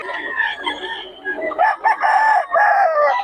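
A white rooster crows loudly and close by, a long, drawn-out call with a strained, wavering tone.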